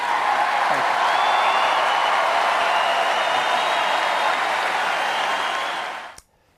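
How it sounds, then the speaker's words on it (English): An audience at a Republican convention cheers and applauds in a sustained, dense roar of clapping and crowd noise with a whistle or two on top, holding steady for several seconds before cutting off abruptly. "it is so nice to hear you cheering for what I just said"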